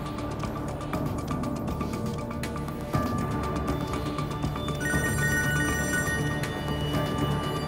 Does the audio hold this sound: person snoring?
no